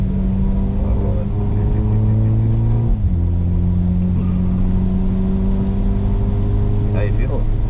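Mercedes SL45 engine pulling hard on the Harris Hill Road race track, a steady loud in-car drone whose pitch dips at a shift and then climbs again under throttle, with brief talk inside the cabin.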